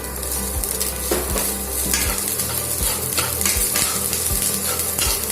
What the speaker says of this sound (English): Once the oil gets hot, I'll put the chopped onion and fry it lightly.